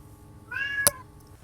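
A single cat meow rises and falls indoors in a room, moderately faint, followed by a sharp brief knock, with no talking.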